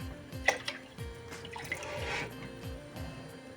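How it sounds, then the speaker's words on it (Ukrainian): A short stream of vinegar poured into a pot of marinade, with faint drips and small clinks around it, fairly quiet and close. "Та додаємо 300 мл оцту."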